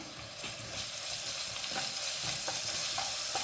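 Homemade ginger garlic paste fries in hot oil for chicken biryani, a continuous close sizzle with occasional stirring scrapes and no talk.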